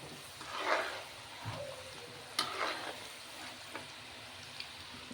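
Spices tempering in hot oil for a curry leaf pickle, a soft crackling sizzle with scattered pops and spits, a few sharper crackles standing out, fairly close and quiet with no talking.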